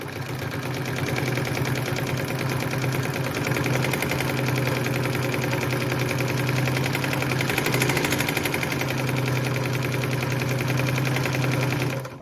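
A Phoenix E10 sewing machine runs steadily while winding a bobbin, giving a continuous, close, mechanical whirring hum with fast rhythmic ticking that holds even for about twelve seconds.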